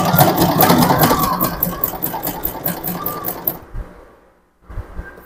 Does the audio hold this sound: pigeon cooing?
no